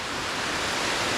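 Kuang Si waterfall near Luang Prabang, Laos, pours in a steady, dense, full-bodied roar of falling water, close and continuous with no other sounds.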